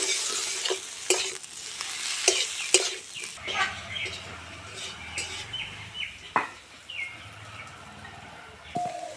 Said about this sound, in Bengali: দিয়ে আরও কিছুক্ষণ ভালো করে নেড়ে চেড়ে নেব, আলুর রসটা নেড়ে নেব